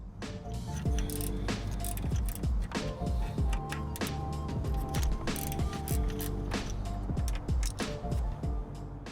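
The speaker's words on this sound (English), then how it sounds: "Use an 8mm wrench to remove the mounting bracket." Wrench removing mounting bracket bolts on a Jaguar XJR6, quick clicking ratchet bursts repeated in busy runs, close and fairly loud, with metallic rattles between strokes.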